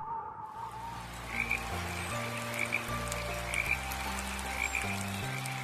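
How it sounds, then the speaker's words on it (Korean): A tree frog croaks repeatedly in the rain, in rhythmic chirping bursts set over soft, gentle storybook music, moderately faint and without voices. "그 뒤로 청개구리는 비가 오면 개굴개굴 더 크게 울어요."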